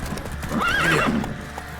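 Horse from The Witcher 3 gallops off with rapid clip-clopping hooves and a whinny, close and fairly loud, with no talk over it.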